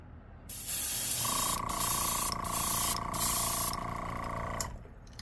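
An airbrush sprays bone-colored paint onto an X-Rap Smokey Shad fishing lure: a close, steady hiss lasting several seconds with brief interruptions as the trigger is released, ending abruptly.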